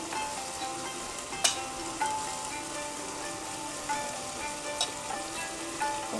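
Ginger powder being stirred into a pan of frying Rogan Josh, with a steady soft sizzle broken by occasional clicks and scrapes of a spoon against the pan.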